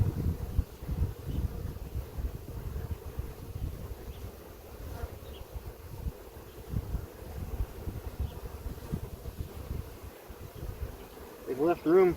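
Honey bees hum in a continuous low buzz around an open hive, close and steady, with a voice briefly audible near the end.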